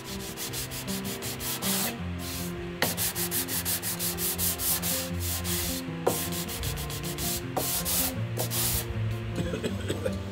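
Soy sauce is rubbed by hand onto a cypress wood plug set in cedar boards, giving a steady, close scrubbing rasp with rhythmic strokes and a few soft knocks.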